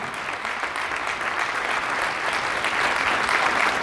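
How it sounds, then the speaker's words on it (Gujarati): Loud, sustained applause from an audience giving a standing ovation at a pensioners' association annual gathering, dense clapping that builds slightly and never pauses. "જોરદાર તાળીઓ સાથે આપણે બધા સ્ટેન્ડિંગ ઓવેશનમાં પ્રવીણભાઈને અભિનંદન આપીએ"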